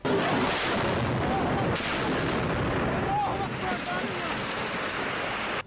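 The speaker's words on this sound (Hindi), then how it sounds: "वहां कानों को फाड़ देने वाला एक जोरदार धमाका हुआ" A heavy, rumbling barrel bomb explosion roar in the Russia-Ukraine war fills the clip, dense and continuous, with a sharp crack near the start and debris-like noise throughout.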